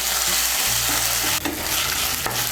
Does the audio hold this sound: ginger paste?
yes